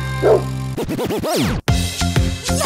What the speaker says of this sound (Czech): Tady někdo štěká.